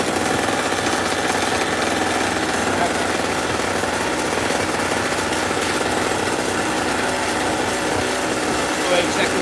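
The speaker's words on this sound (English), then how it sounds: "We're messing with a small 800 watt generator" A small 800 watt portable generator runs steadily at close range, its high, buzzy engine drone constant and unbroken throughout, with a faint voice in the background.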